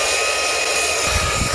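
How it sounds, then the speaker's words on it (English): Fanttik B8 ACE brushless mini blower blasting caked dust out of a radiator, a loud steady high-pitched whoosh that roughens with deeper gusts near the end as air hits the fins. "Let's go ahead and try to blow all this dust."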